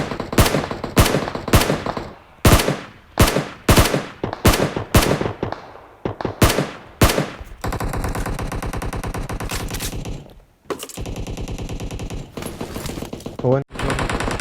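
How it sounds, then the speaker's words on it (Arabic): Gunfire in the video game PUBG on the Erangel map: loud close bursts of single shots and rapid automatic fire, sharp cracks with echoing tails, ending in long sustained volleys, while players talk over it. "ذاك طلقة."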